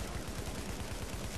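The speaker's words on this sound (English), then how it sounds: "I'll shoot him from the window." Rapid gunfire in The Division video game, a dense stream of shots in quick succession, loud and continuous for the whole brief moment with no voices over it.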